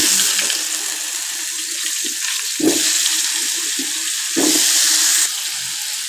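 Polao rice and lentils rinsed together under a running kitchen tap, a steady close hiss of flowing water with brief splashy surges as the grains are stirred and handled.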